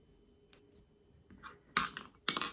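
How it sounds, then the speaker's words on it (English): Scissors snip through crochet yarn while a rose granny square is finished, giving a couple of crisp, close, quiet cuts against a near-silent background. "we'll cut the yarn"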